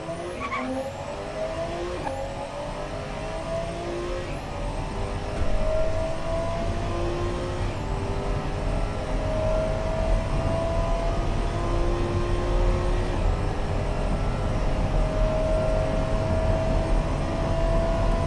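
Hard acceleration from a powerful car engine in Automation, a loud continuous roar climbing in pitch through several gear changes, each shift marked by a brief drop before revving up again, heard alone.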